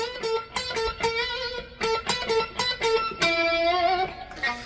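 Distorted electric guitar plays a quick choppy riff, then holds a note that bends up and wavers with vibrato before fading.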